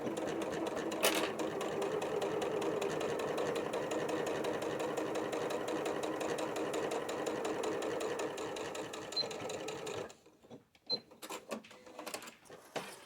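A sewing machine runs steadily for about ten seconds while back stitching the bottom of a water bottle sling bag, its close mechanical whir continuous, then it stops and leaves a few scattered clicks and handling sounds.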